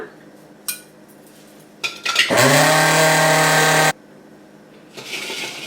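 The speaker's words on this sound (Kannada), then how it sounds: "ಇದನ್ನು ಮಿಕ್ಸರ್ಗೆ ಹಾಕಿ ಸಣ್ಣದಾಗಿ ಪುಡಿ ಮಾಡ್ಕೊಳ್ಳೋಣ" A few clinks, then a mixer grinder grinding rice to a fine powder whirs loudly and steadily for about two seconds before stopping abruptly.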